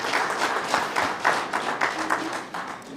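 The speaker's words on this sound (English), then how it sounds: "Please clap hands for Director Shapumba" Scattered, moderate hand-clapping from a regional address audience for Director Shapumba, with individual claps audible in an uneven rhythm at middling distance.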